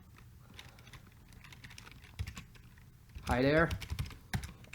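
Keyboard typing on a computer while writing code, soft rapid key clicks running under a brief spoken phrase.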